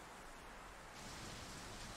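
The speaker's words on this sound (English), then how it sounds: "Sad, rainy situation." Rain falls steadily in the video game Hourglass, a faint, even wash of static-like hiss that thickens partway through, with no voices.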